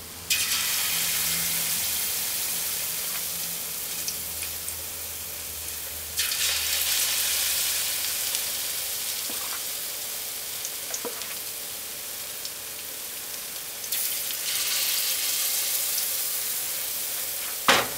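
Steady, loud sizzling of Jamaican banana fritters deep-frying in hot oil, a continuous crackling hiss with occasional brief clinks, no voices.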